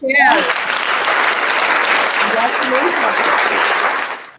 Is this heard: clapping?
yes